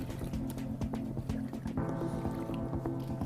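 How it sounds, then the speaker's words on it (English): Dirty water with faeces mixed in is stirred in a jug, giving a steady run of close, soft sloshing and dripping sounds. "Let's just stir that up a little bit."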